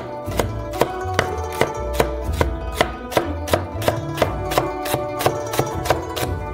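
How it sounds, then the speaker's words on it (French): A knife chops leeks into small pieces on a cutting board for noodles, steady rhythmic blade strikes repeating about twice a second, close and clear with no talk. "Des poireaux, on les coupe dans le sens de la longueur. Et hop, on coupe comme ça en petits morceaux."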